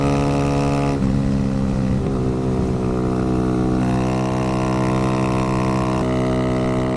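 A Kawasaki Z125 motorcycle holds a steady, loud, high-revving engine drone while ridden at about 55 mph near 8,000 RPM, with wind noise throughout and a slight pitch shift along the way.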